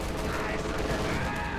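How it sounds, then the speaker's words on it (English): Dense, continuous gunfire from a strafing run in the strategy game Company of Heroes 2, a busy wall of rattling shots and explosions with no pauses. "we got a strafing run in here, strafing run in"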